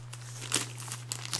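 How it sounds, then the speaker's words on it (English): Plastic bag crinkles close up as a Samsung Propel Pro phone is unwrapped, a steady rustle with a few sharper crackling bursts over a low electrical hum. "Comes in a plastic bag."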